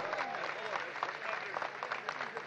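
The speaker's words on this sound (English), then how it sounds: "Give yourselves a huge round of applause." Faint, distant-sounding applause from a large parish audience at a Palm Sunday Passion Play, a steady wash of clapping with voices mixed in throughout.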